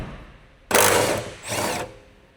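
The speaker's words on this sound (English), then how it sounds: "Use the impact wrench with a 14 millimeter deep socket." An impact wrench with a 14 mm deep socket spins off the strut tower mounting nuts on a 1999 Honda Civic EK with a D16Y engine, giving two short, loud, close bursts of power tool whirring, with no talking.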